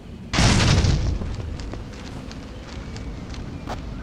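Breaching explosives detonating in the video game Rainbow Six 3, one sudden loud blast that booms for about half a second, then a rumbling decay with faint debris and footstep-like taps trailing off.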